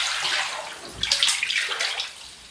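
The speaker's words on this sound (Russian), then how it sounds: "Из кранов льет не просто ржавая вода" Brown, rusty tap water gushes steadily into a bathtub, a close, continuous hiss and splash with light gurgling and no talk.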